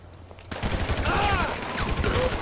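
Gunfire in GTA 5 with mods, a steady spray of shots that starts abruptly and continues loud and dense throughout, with a voice talking over it.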